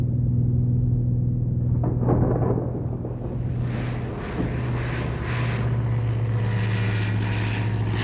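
A small propeller plane drones steadily throughout, a loud, continuous engine and airscrew hum with rumbling, gusty buffeting layered over it as it flies through rough weather aloft.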